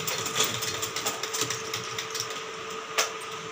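A sewing machine stitches a princess-cut blouse, giving a steady whirring run of rapid needle pulses throughout, with one sharper clack near the end and no talking.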